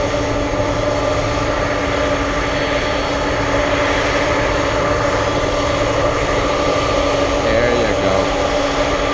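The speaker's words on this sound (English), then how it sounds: "We have Dynasty 5231 flying in from Chicago." Dynasty flight 5231 from Chicago comes in to land on runway 15 at Ted Stevens Anchorage airport on a windy day. A loud, steady jet engine roar fills the air, and a voice can be heard under it.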